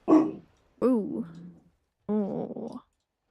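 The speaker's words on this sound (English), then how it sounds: "Why are you barking?" A pet dog barks three separate times indoors, each bark short, close and loud with brief silences between, no one speaking over it.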